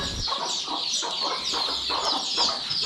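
Several village chickens in a Konkan poultry farm cluck continuously in repeated short bursts, close by, against a busy farmyard background with no talking.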